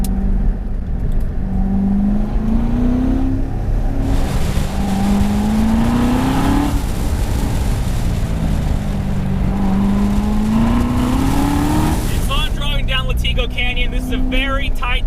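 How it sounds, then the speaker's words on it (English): A 2018 Corvette Grand Sport with the LT1 engine pulls hard along a tight, technical canyon road, its loud exhaust note rising in repeated climbing sweeps between shifts, with a person talking over it throughout. "with the LT1 engine, it's really approachable, it's really fun to drive. But at the same time, it's rowdy"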